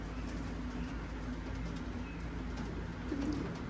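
Racing pigeons coo softly in a loft, low steady murmuring calls against a constant background hum, fairly faint and continuous with no talking.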